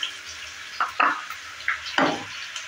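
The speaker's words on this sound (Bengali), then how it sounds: "এবার দিয়ে দিচ্ছি কেটে রাখা আলু।" Diced potatoes tossed into a pan with panch phoron: a few scraping stirs and clattering knocks, four or five bursts over a low sizzle, close and moderately loud, with no voices.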